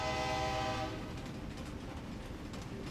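The McKinley Explorer passenger train rolling through Alaska, with a steady loud rumble and a sustained horn-like tone at the start that fades after about a second, leaving continuous wheel and carriage noise.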